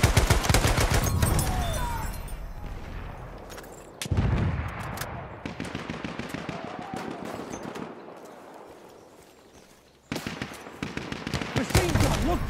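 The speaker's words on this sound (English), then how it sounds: "Machine gun" Dense battlefield gunfire from Battlefield 1, with rapid machine-gun bursts and scattered shots in a sustained, loud barrage that breaks off briefly around the middle and again near the end before resuming.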